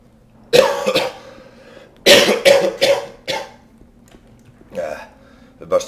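A man recovering from an illness coughs in several harsh, close bursts: one, then a cluster of three or four, then another pair, with quiet gaps between.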